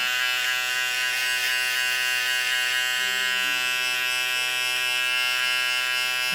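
An electric hair trimmer buzzes steadily and close while setting a fade guideline during a haircut, its tone shifting slightly partway through.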